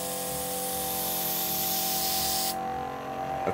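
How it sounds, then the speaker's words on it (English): Steady airbrush hiss from a 0.4mm needle fed by a Sparmax Airism Mini compressor, spraying a fine mist at reduced pressure; continuous and close, with a constant compressor hum beneath and a sudden drop in the hiss near the end. "if I just reduce the pressure, you can see we've got much more of a kind of a finer mist being created"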